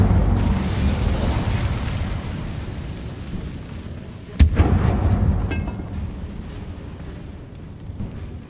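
An Incendio fire spell cast in the Hogwarts Legacy video game: a steady, loud roar of flame with a sharp, forceful blast bursting out midway before the roar carries on.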